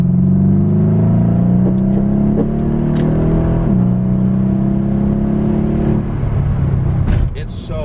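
A 2015 Mercedes E63S AMG with a roughly 600 hp engine pulls hard from inside the cabin, a loud steady rising drone with an upshift midway, tire and road rumble beneath, and a voice briefly at the end.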